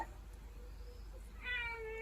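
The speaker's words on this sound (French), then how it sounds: "Et le chat qui est en train de me faire du câlin." A pet cat, cuddling up close indoors, lets out a near, fairly loud meow with a grumbling, complaining tone toward the end, over a low steady background hum.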